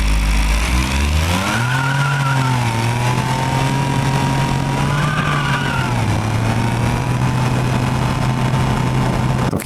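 Ibishu Kevin kei truck with a 660cc dual overhead cam inline-three and CVT in the BeamNG Drive video game, revving up loudly and then droning at steady high revs, with a brief tire squeal and no talk.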